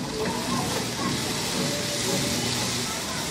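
Chopped tomato fries with onion in a hot pan for a semolina dish, giving a steady, dense sizzle and hiss that carries on without a break, with a faint voice underneath.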